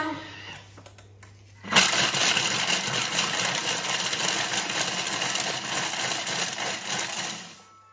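A food processor mixing at speed 6 for five seconds: after a short quiet moment it whirs up abruptly into a loud, steady motor roar, then cuts off near the end.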